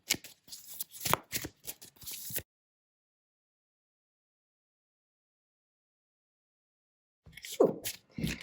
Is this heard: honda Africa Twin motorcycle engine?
no